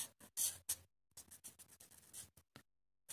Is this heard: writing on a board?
yes